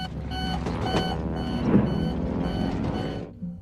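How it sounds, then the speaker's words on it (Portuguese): Aircraft ground proximity collision alarm sounding in an airliner cabin before a crash in the Andes: a steady, loud electronic tone with repeating beeps, sustained for several seconds over a low rumble. "o alarme de colisão com o solo da aeronave soou"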